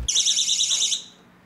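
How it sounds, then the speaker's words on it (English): Piercing electronic personal alarm siren, a loud warbling high-pitched tone that blares steadily for about a second after a short thump, then cuts off and fades. "Personal alarm. It's a personal alarm."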